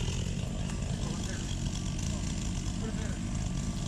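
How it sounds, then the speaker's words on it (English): A STIHL MS 261 chainsaw drones steadily and fairly loud as it cuts into a tree, a continuous rough engine buzz with no pauses. "I'm fighting with that saw to get through the wood."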